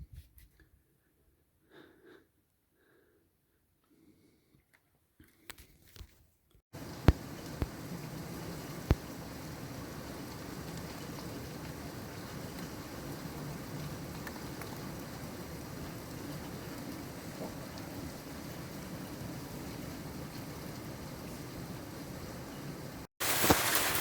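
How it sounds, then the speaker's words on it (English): Heavy rain pouring onto roofs at night, a dense, steady hiss that starts suddenly after a few seconds of near-quiet with faint knocks and continues without a break. "So it's really pouring down with rain at the moment."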